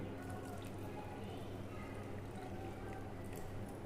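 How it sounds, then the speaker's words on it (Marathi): Water poured into a bowl of peeled fresh cashew kernels, a steady soft splashing and trickling that holds evenly throughout at low volume. "ह्या ओल्या काजूगरांमध्ये मी पाणी टाकून घेते"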